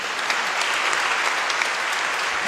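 Applause from a church congregation during an Advent Sunday service, a dense, steady wash of many hands clapping together, loud and sustained throughout with no voices above it.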